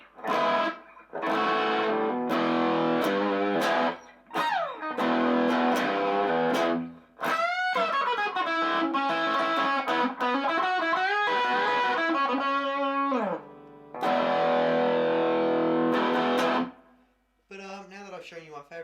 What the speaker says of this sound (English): Now my favourite ones are going to be the lead with the delay and the reverb